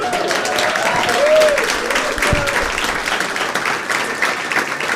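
Comedy club audience applauds loudly after a stand-up comic's set, a dense steady wash of clapping with a voice briefly audible over it.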